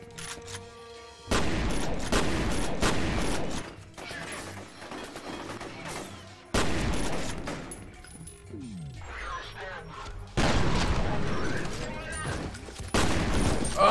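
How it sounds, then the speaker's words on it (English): Shotgun blasts in the shooter F.E.A.R., three heavy booming bursts of fire with clattering mechanical rattles and crashing debris between them, loud and close. "shotgun."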